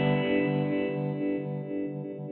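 A synth tone passes through a ring modulator driven by a sine wave, giving a steady, buzzy metallic sound that pulses gently in level for a couple of seconds, with no voices.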